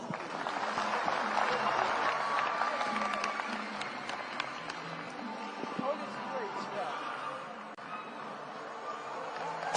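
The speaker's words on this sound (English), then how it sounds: "A round of applause." A large crowd at the Kenya Kwanza manifesto launch at Kasarani stadium applauds, a sustained distant roar of clapping and crowd noise that slowly fades, with voices blended in.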